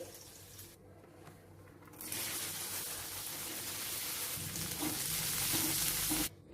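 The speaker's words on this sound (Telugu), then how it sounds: "పక్కన పెట్టేసుకొని ఆ మిగిలిన బెండకాయలను కూడా ఇదే విధంగా ఫ్రై చేసుకోవాలి." Okra pieces fry in oil with a steady, close crackling sizzle that grows louder after a quieter start, then cuts off abruptly near the end.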